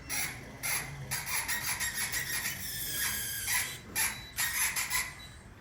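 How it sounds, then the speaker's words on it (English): Ratchet driving a dental implant into place, a steady series of close, rasping clicks in short repeated bursts with brief pauses between turns, no talking. "Screw and screw, screw and screw until you reach the position."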